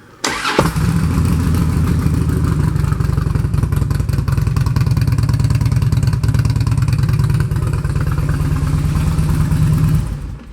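A 2007 Harley-Davidson Road King Firefighter Special with a Vance and Hines exhaust cranks and fires up, then holds a loud, lumpy, close-up idle rumble for about ten seconds before cutting off.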